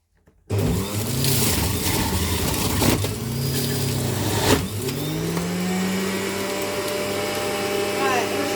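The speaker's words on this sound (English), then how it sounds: "I'm going to put the oranges in and switch the machine on" An electric juicer runs while juicing oranges, starting abruptly and holding a loud, steady motor whine with slight pitch shifts throughout, with faint voice in the background.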